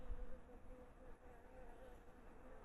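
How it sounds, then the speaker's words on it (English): Bees swarming in a fall yard garden make a faint, continuous, even buzzing drone at low volume with no voices, like many insects busy among the plants. "I just hear bees. Tons of bees."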